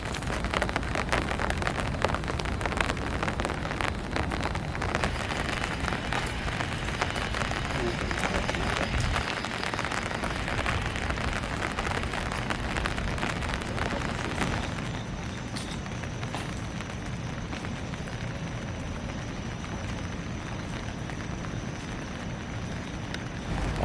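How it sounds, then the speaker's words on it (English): Steady, dense rain pattering on a city street in Seoul, a continuous hiss of drops striking pavement and surfaces that stays constant throughout, with quiet speech underneath. "It's raining"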